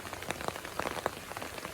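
Rain falls steadily on a surface, a soft close pattering of scattered drops and light taps with no voices.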